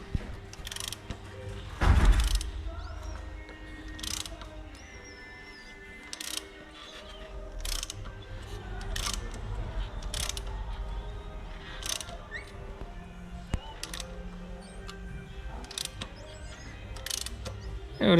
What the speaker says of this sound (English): So now I can turn the crankshaft to see how everything is going.